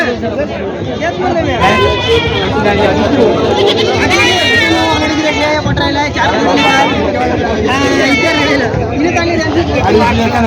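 Goats bleat repeatedly at a crowded rural goat market in Vasmat, Hingoli district, their high wavering cries rising loud and close over steady crowd chatter and talk.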